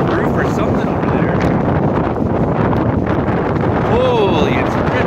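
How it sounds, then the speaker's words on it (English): Damaging storm winds roar steadily and loudly against the microphone, a constant broadband rush with gusty swells, and a faint whistling tone rising near the end. "we got damaging winds"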